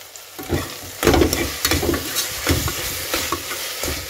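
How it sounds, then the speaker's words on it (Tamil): Mint being sautéed in a pan for coconut milk rice, a close sizzle broken by repeated scraping stirs of a spoon at an uneven rhythm, with no voices. "ஒரு 2 நிமிஷம் நல்லா வதக்கிக்கோங்க."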